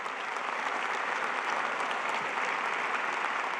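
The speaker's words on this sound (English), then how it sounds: "Let's give them a huge round of applause for changing your trajectory." Steady, dense applause from a large audience at a spring commencement ceremony fills the whole stretch, loud and unbroken with no voices on top.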